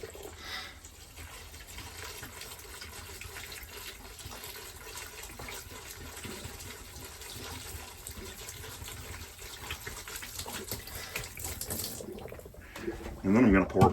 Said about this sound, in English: Then I'm going to pour the other half into the shower.